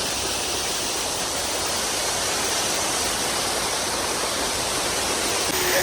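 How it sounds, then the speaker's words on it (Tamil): A waterfall pours beside a mountain road at Valparai, a loud, constant rushing roar of falling water filling the whole moment, with no speech. "அப்படியே அருவி கொட்டிகிட்டே இருக்குது"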